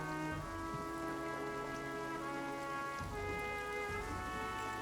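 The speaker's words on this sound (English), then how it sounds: "Still raining." Steady rain falls in the trench-warfare game All Quiet in the Trenches. A quiet, continuous hiss of rainfall sits beneath low, droning tonal game music, with no voices.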